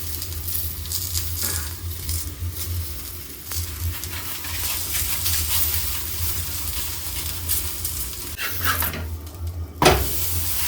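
A methi thepla fries in oil on a hot tawa, producing a steady, close hissing sizzle with soft spattering and a few sharper bursts near the end.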